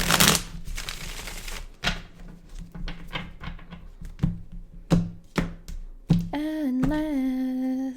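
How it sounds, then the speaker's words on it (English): Tarot cards being shuffled by hand: a dense papery riffle up front, then a series of sharp separate taps and slaps, closing with a sustained tonal sound. "One more shuffle."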